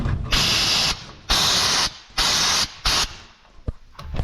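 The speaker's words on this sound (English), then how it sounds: "I'm going to keep coating it like that until we have complete coverage with this rust preventative paint" Rust preventative paint sprayed from an aerosol can into a 2007-2013 GM truck wheelhouse, in four loud hissing bursts of about half a second to a second each, separated by short pauses, close to the nozzle.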